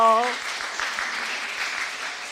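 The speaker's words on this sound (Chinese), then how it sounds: "恭喜以赖，我们拍手" A church congregation applauds after a baptism at a Sunday service, dense and sustained clapping filling the hall, with a brief voice at the start.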